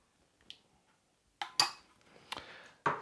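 Tablespoon scooping sauce into a bowl for Chinese barbecue spareribs, a few sharp metallic clinks and taps against the dish, separated by short pauses, close and with no talk.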